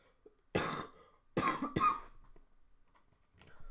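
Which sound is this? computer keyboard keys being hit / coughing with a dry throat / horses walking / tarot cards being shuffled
coughing with a dry throat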